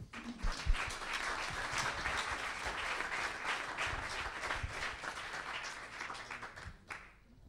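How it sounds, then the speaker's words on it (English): Audience applause for guest speakers at an architecture talk, sustained steady clapping from a crowd for about seven seconds before it fades out at the end. "please welcome me in joining an applause for our guests"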